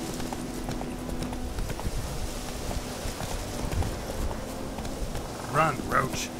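Hooves of Roach, the horse in the video game The Witcher 3, clip-clop at a gallop in a steady rhythm, with faint game ambience and a brief louder burst near the end.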